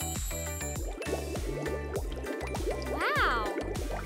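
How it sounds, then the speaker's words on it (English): Hot water runs from a tap into foam during a doll bath scene, giving a steady trickling fill that sits beneath louder, prominent background music. "Mom turns on hot water."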